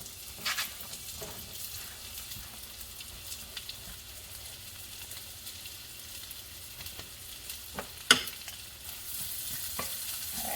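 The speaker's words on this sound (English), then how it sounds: "so now we are going to put our sliced onions in and let those cook for about 5 minutes." Sliced onions frying in a pan give a soft, continuous sizzle, with occasional stirring scrapes and clicks and one sharp knock of a utensil against the pan near the end.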